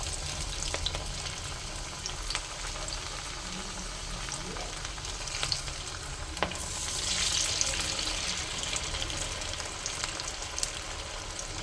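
Spinach vadas frying in hot oil for cheera vada, a steady broadband sizzle with crackling pops that swells louder partway through as more batter goes in, heard on its own without talk.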